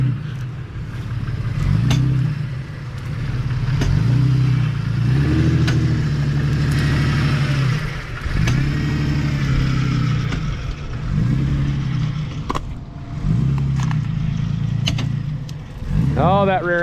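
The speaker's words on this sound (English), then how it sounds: "Oh, that rear end sounds good in that thing" An old truck being maneuvered and spun around, its engine revving in repeated surges with drivetrain and rear-end whine and some clatter, loud and close, with people talking over it.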